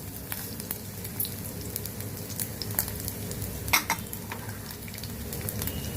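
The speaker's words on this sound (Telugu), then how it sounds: "పోపు వేగిపోయింది చూడండి." Mustard seeds, garlic cloves and dried red chillies fry in hot oil for a tempering, a steady close sizzle with scattered pops and crackles and a few stirring scrapes, with no talking.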